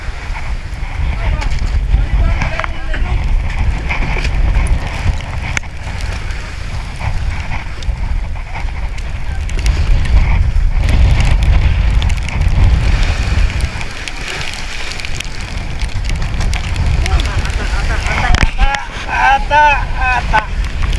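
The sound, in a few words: strong wind and rain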